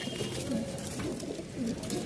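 Pigeons cooing in a Dhaka shop in Mirpur-1, two pairs including feather-footed Rajshahi birds, their soft repeated low coos over a steady background murmur.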